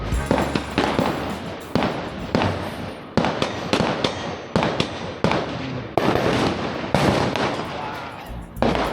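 Gunshots at an outdoor shooting range crack out sharply, about a dozen loud reports in uneven succession, each ringing briefly before the next, fairly close.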